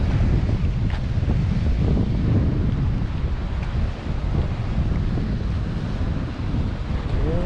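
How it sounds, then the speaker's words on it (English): Strong wind buffets the microphone in a loud, constant roar on a public beach at Grand Bend, Ontario, with surf rumbling underneath and no talking. "very windy"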